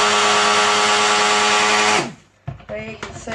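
A stick blender whirs in a pot of cold process soap batter, a loud, steady motor whine for about two seconds that winds down as it stops, followed by a few brief clunks and knocks.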